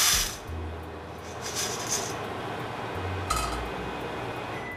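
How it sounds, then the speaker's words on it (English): Freshly re-roasted coffee beans tumble and clink in a colander as they cool, a light, scattered rattle of hard beans against metal with a low steady vent hum underneath, no voices. "I'm going to use a colander to cool the coffee down"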